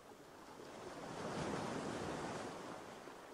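Sea waves wash in a steady, close surge of broadband surf that swells toward the middle and eases slightly, with a soft wind-like hiss throughout and no voices.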